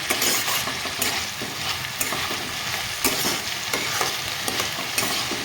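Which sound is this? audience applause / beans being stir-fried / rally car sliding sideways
beans being stir-fried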